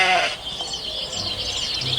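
A white toy sheep just taken out of its box gives a short bleat, fairly close and clear, with a high bright tone and nobody speaking over it.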